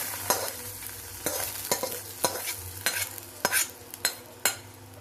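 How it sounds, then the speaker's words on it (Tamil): Repeated stirring and scraping of a spoon in a pot of Mysore rasam over a soft background sizzle of tempering, with sharp metallic clinks every half second or so. "ரசத்துக்கு, மைசூர் ரசத்துக்கு தாளிச்சு கொட்டிடுறேன்"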